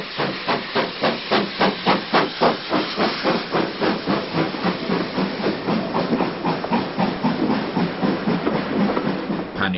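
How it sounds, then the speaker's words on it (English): Great Western 7820 Dinmore Manor, a steam locomotive, leaves Watchet for Minehead, giving a loud, rhythmic chuffing of steady, evenly spaced exhaust beats with a continuous hiss of steam. "Leaving Watchet for Minehead is Great Western 460 7820 Dinmore Manor"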